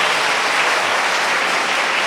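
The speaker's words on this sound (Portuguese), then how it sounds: "dê uma forte salva de palmas, professores" Steady, dense applause from a large audience at a state church conference, clapping for teachers, loud and continuous throughout without any voices over it.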